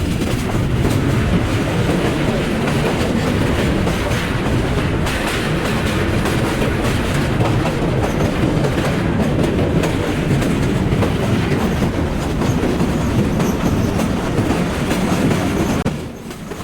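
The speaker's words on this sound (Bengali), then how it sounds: "ট্রেন প্রবেশ করছে ভৈরববাজার রেলওয়ে ব্রিজে" The Parabat Express train rolls onto the Bhairab Bazar railway bridge with a loud, continuous roar of wheels and rhythmic clickety-clack, close and steady throughout before easing slightly at the very end.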